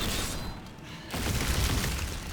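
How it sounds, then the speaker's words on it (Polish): Corpse Explosion skill blast in Diablo III, a dense booming burst of crackling noise that drops away briefly and then surges back louder for the last second. "wybuch zwłok"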